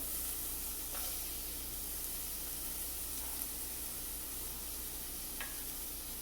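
Chopped onions sizzle steadily in hot oil in a pan, a close, even crackling hiss with a few faint clinks, no one talking.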